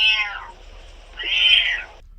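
A domestic cat meows twice, close and fairly loud: a falling cry first, then after a short pause a longer, drawn-out meow, with no voices around.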